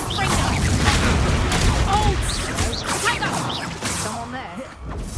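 A Confringo blast spell is cast in a video game, giving a loud burst of booming and whooshing effects layered with crackles and whistling tones, with voices speaking over the busy battle noise.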